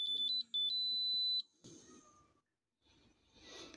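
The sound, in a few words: gas explosimeter beeping while it calibrates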